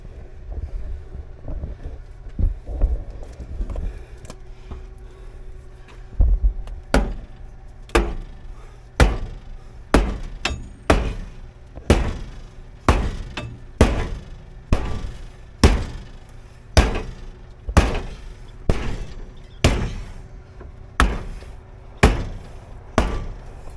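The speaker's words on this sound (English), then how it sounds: "winded because that hammer's heavy. It's got a metal handle." A heavy metal-handled hammer strikes hard again and again in a steady rhythm of sharp, loud blows, each with a short ringing tail, with no voices.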